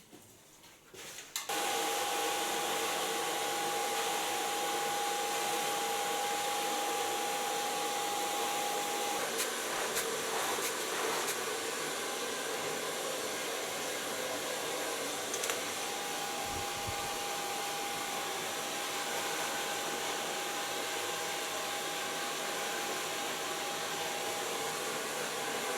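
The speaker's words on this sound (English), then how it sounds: "And start blow drying with a medium brush." A hair dryer blows steadily and loudly through a long session of blow drying hair with a medium brush during a medium-long to bob makeover, the airflow constant with only slight shifts, no talking.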